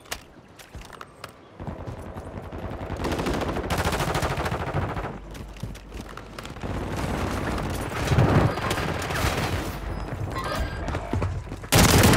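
Gunfire rings out outdoors while a man runs, a dense sequence of shots and bursts, loud and fairly close, filling most of the stretch with brief lulls and a heavy burst near the end.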